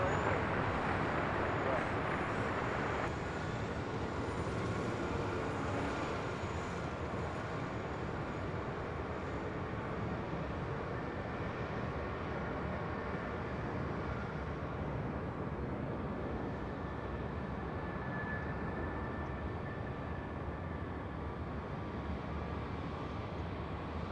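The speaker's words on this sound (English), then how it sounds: "this Delta A321 Neo now rolling down at 24 left" A Delta Airlines Airbus A321neo taking off on runway 24 left at LAX, a broad distant jet roar with a rising whine, heard steadily with faint radio chatter underneath.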